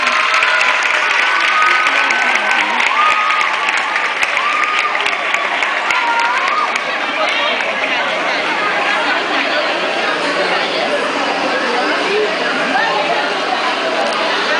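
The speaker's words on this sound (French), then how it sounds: "Applaudissez pour l'arrivée de notre directrice." School audience applauding and chattering at a school anniversary celebration as the director arrives, a dense continuous wash of clapping with crowd voices mixed in throughout.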